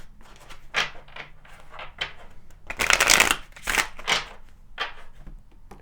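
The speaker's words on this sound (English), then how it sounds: "Let's pull some Kipper cards here." Kipper cards being shuffled by hand, a run of close riffling and flicking bursts in an uneven rhythm, loudest in the middle, with no talking.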